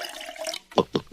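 Cold tap water from a kitchen sink pours into a drinking glass in a steady close stream, then stops and gives way to three short, separate splashy bursts.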